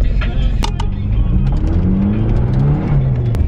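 A car with a newly fitted exhaust revs loudly nearby, the engine note rising and falling while sharp pops and crackles burst from the pipe throughout.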